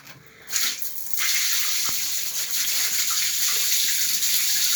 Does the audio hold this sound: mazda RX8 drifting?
no